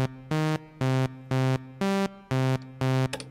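A synthesizer lead sequence plays a repeating octave pattern, seven bright buzzy notes in even pulses with short gaps, alternating between a lower note and the octave above, dry and loud with no voices.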